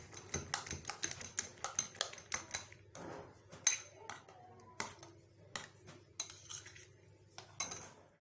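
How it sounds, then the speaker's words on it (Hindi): Eggs beaten with cabbage, capsicum and onion for a bread omelette, a utensil clinking rapidly and steadily against the bowl in close, irregular bursts, with no talking. "अब इसको फेंट लेना है अच्छे से, दोबारा मिक्स कर लेना है।"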